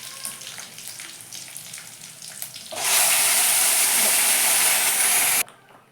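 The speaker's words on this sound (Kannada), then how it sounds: "ಈ ನೋಡ್ರಿ ಒಗ್ಗರಣೆ ಕೊಟ್ಟಿದ್ದಕ್ಕೆ" Quiet kitchen background gives way to a sudden loud, crackling sizzle of tempering spices hitting hot oil for a sorrel-leaf (pundi) palya, which holds steady for a few seconds and then cuts off.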